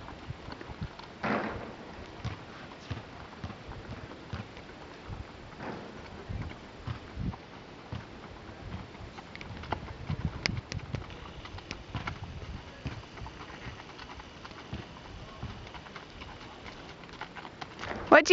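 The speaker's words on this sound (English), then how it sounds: "David riding in the beautiful state of Ohio, one of our friend's horses." A horse being ridden on a farm in Ohio country near Massillon gives steady, moderately close clip-clopping hoofbeats throughout, with faint birds in the background.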